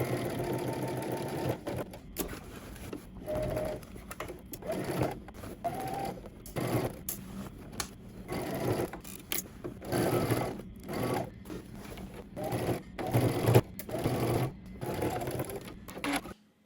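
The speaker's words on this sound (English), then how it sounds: "Now we're going to head to the sewing machine and we're going to stitch in the ditch." A sewing machine stitches in quick mechanical bursts, starting and stopping repeatedly with short pauses between runs, close and clear.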